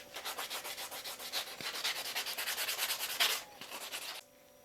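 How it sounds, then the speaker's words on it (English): Light sanding of a big stick bait lure, a Muskie-style lure made for saltwater fishing, smoothing off small nubs: a close, steady run of quick rhythmic rubbing strokes that stops abruptly near the end. "I'm gonna go ahead and give this thing a really light sanding just to get all the little nubs off"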